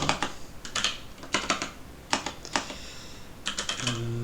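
Numbers being typed on a computer keyboard: close, crisp keystrokes in short irregular bursts separated by brief pauses, with nothing else heard.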